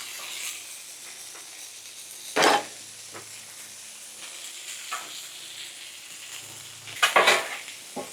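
Butter laid on a hot griddle, a soft low sizzle running underneath, with a couple of louder scraping clatters from a utensil against the metal surface.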